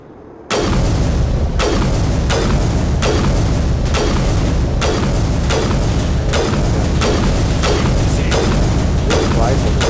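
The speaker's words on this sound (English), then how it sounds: "This rifle is not very powerful sniper rifle, but it's not building up the heat sniper rifles normally build up" A sniper rifle in Mass Effect fires about a dozen loud, sharp shots in steady rhythm, roughly one every three-quarters of a second, each a heavy boom with a short tail.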